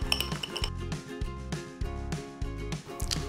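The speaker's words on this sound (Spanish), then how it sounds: "Lo vamos a batir siempre así, muy fuerte, muy bien, hasta que se integre por completo" A whisk beats a cornstarch mixture by hand in a bowl, producing quick, rhythmic metallic clinks and scrapes close up, repeating steadily without pause and with no talking.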